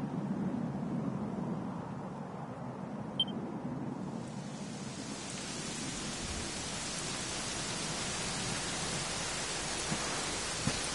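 Steady rain falls in the video game Dragon Quest XI, a continuous even hiss that swells fuller after a few seconds and carries on unbroken, with no voices.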